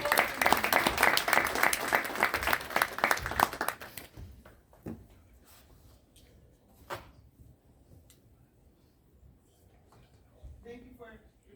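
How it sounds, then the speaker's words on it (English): An audience at a community education forum held at the United Nations applauds in a dense burst for about four seconds, then it fades to a few scattered claps and quiet room noise. "please just again give a round of applause"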